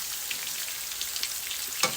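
Meatballs searing in a frying pan, a steady close hiss and crackle of sizzling oil with a brief sharp clink near the end.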